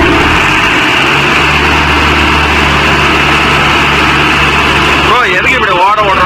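A Mahindra 605 tractor engine runs steadily to warm its oil, a loud, continuous low diesel drone with an even throb, joined near the end by a brief warbling, voice-like sound.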